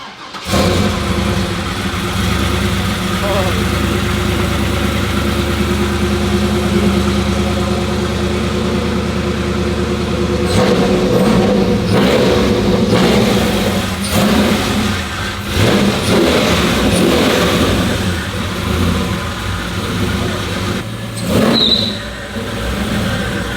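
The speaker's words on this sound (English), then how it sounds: "I can turn it on now. Let's see how it starts." A trophy truck engine cranks and catches, idling with a deep, even rumble before breaking into a series of loud, close revs that rise and fall. The engine is heard alone, with no voices.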